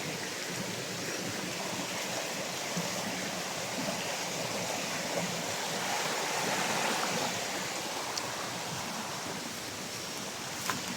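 Creek water blocked by fallen wood flows in a steady, close rushing wash, continuous broadband burble with no talk.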